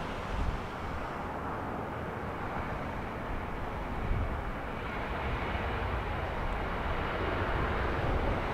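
A jet airliner departing Los Angeles International Airport, its broad engine roar steady and fairly loud throughout, a continuous rumble with no voices.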